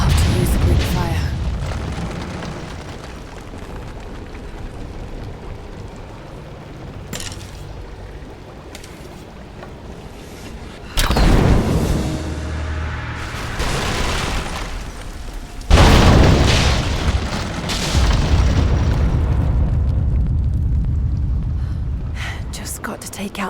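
Greek fire exploding in Rise of the Tomb Raider: two loud, sudden booms about five seconds apart, each followed by crackling, roaring debris that slowly fades, after a quieter stretch where a voice speaks.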